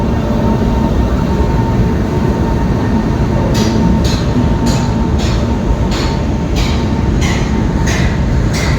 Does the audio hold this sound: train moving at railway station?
yes